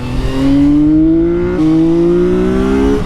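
A CFMOTO 675 NK motorcycle engine revs hard and climbs in pitch, shifting gear once and pulling up again, loud and close.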